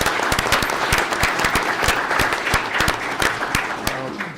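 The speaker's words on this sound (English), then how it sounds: "give them a round of applause" An audience at a public meeting claps steadily and loudly for Boy Scouts, a dense continuous applause with distinct individual hand claps standing out throughout.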